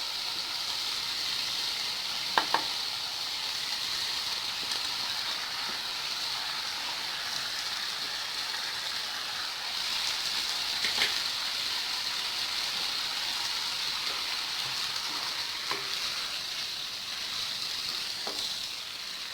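Boiled egg noodles for a spicy egg noodle dish go into a hot pan and are stir-fried with sauce, giving a steady, even sizzle throughout with occasional light clacks of a utensil against the pan.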